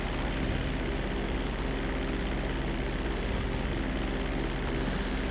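An airplane in GTA V takes off at night and climbs away, its engine drone a steady, loud, continuous roar filling the whole stretch with no voices.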